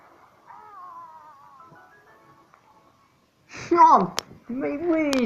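Cat sound in the Trollface Quest video game, a short pair of loud meow-like cries arriving after a quiet stretch of faint tonal game music.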